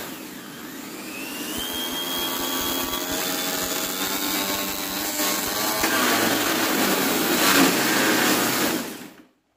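A Traxxas XO-1 RC car winds up in a burnout, its electric motor whine rising to a loud, high-pitched scream with rough tire roar, building over several seconds before cutting off abruptly.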